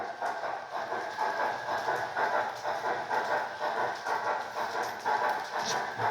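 A homemade HO scale 2-6-6-6 Allegheny model steam locomotive hauls a 50-car train at low throttle. Its wheels make a continuous, even clickety clatter over the track, close and unbroken, with no voices.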